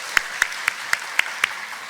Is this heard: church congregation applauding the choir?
yes